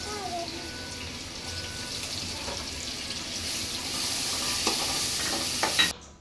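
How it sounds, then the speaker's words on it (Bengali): Chopped garlic frying in oil in a wok for a stingray fish curry, a continuous close sizzle with spatula stirring that swells louder toward the end before cutting off. "এবার কড়াইতে আরেকটু তেল দিয়ে রান্না শুরু করবে। তাতে দিয়ে দিল রসুন কুচি"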